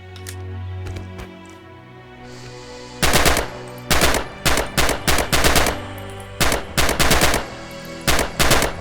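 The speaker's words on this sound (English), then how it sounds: "You can fire from cover or risk exposing yourself more to return fire. Free fire at the targets on the range." Rifle fire at targets on a shooting range in the World War II game Red Orchestra 2: Heroes of Stalingrad, loud sharp shots in rapid bursts and single cracks after a quiet start.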